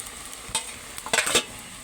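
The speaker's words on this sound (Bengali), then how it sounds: "উঠিয়ে এখন নাড়াচাড়া করে দিব তরকারিটা" Pangas fish curry with radish and potato being stirred in a pan, with a few soft scrapes and clinks of the spoon over a faint sizzle, close and brief, no voice.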